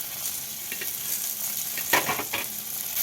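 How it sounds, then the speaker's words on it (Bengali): Eggplant pieces frying with salt and turmeric in a pan while being stirred, the steady sizzle broken by a few scraping stirs and louder clatters near the end, with no one talking. "এবার বেগুনগুলোকে একটু নাড়িয়ে দিলাম।"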